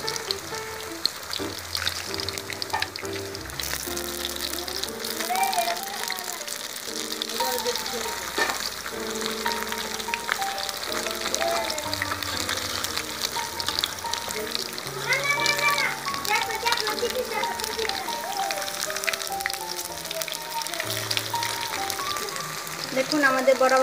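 Pumpkin flower fritters sizzle steadily in hot oil, a constant close frying hiss with occasional stirring, under background music and a talking voice.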